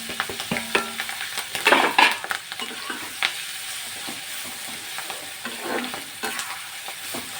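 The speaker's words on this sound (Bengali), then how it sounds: "দেখুন মশলাটা চটপট করছে, আপনাদের কাছে আওয়াজ যাচ্ছে কি না আপনারা বলবেন" Spices crackle and sizzle in hot oil in a pan for a chilli pickle, a steady close frying hiss dotted with sharp pops and stirring scrapes, moderately loud and with no talk.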